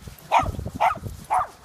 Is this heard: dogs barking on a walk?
yes